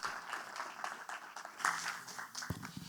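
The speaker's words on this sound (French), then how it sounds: "Est-ce qu'on peut l'accueillir avec des applaudissements, s'il vous plaît?" Audience applause at the PortraitFr Awards 2025 ceremony, welcoming Vital to the stage, fairly faint and distant, with a brief voice near the end.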